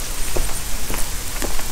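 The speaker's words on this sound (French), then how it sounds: "Donc je n'ai plus de vitre à ma voiture et il pleut." Rain falls on a Renault Kangoo van with one window removed, a steady close hiss of patter broken by several sharper drops landing on the bodywork.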